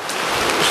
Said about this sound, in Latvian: nereālais lietus